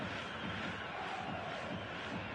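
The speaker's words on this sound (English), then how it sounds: "The noise is just about reaching a crescendo here as these two sides get ready to lock horns." Dense, steady stadium crowd roar from an eFootball video game match build-up, a continuous broadband wash of many voices at even loudness with no single voice standing out.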